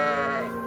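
A single sheep bleat, a close, loud, harmonic wavering cry lasting under a second, heard alone.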